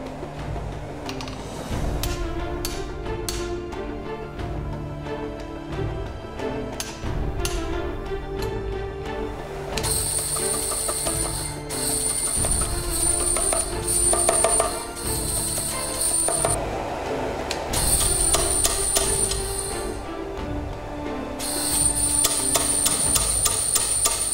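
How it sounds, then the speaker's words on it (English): A hammer forges wrought iron into a knife shape, rapid clanging blows in bursts at close range, with a high steady ringing or hiss running through parts of it. "Once I have a solid piece of metal, I shape it into the form of a knife, first forming the tip and then the tang."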